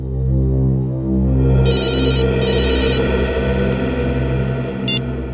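A telephone rings in two short electronic bursts and then rings once more briefly, over a loud, throbbing musical score in a crime drama.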